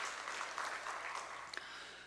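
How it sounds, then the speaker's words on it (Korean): A church congregation clapping in praise during a Sunday worship service: faint, even applause from a room of worshippers with a few sharper claps near the end, heard from a distance. "우리 찬양 받으신 주님께 영광의 박수."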